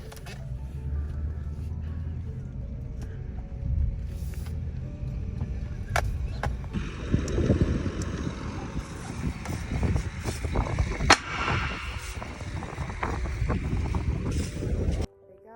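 A John Deere 8420 tractor pulling a small field cultivator on an Illinois farm gives a continuous heavy engine drone with rattles and wind buffeting, close and steady, ending abruptly.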